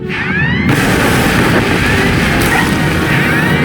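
Explosions and heavy weapons fire rage in a Star Wars: The Old Republic battle, a loud continuous roar of blasts with a sharp burst at the start and sweeping whistles over a dense rumbling bed, no speech.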